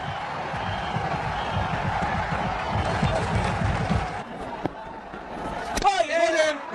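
Cricket stadium crowd roaring and cheering during a one-day international between India and Bangladesh, celebrating a batsman's maiden fifty; a dense, sustained wash of noise that swells and fades, with commentary voices over it near the end.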